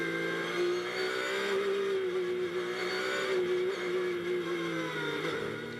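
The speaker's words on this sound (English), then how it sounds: "Jordan Pepper, let the safety car get out of sight, go into the pits." GT race cars at the 24 Hours of Spa endurance race on a Belgian circuit, a steady loud engine drone that rises and falls as they run, continuous and close throughout with no voices over it.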